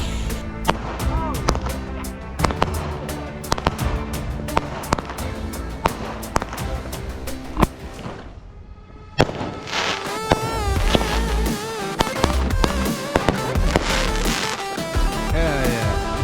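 A 16-shot fireworks cake fires outdoors on the Fourth of July, a steady string of sharp cracking bursts with popping and crackle, loud and close, with a short lull partway through before the shots resume in quick succession.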